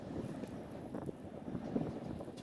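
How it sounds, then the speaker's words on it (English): Gusty outdoor wind buffets the microphone in a steady low roar, rising and falling across a couple of seconds with no voices. "Why is it so fucking windy today"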